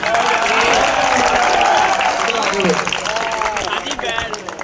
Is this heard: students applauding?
yes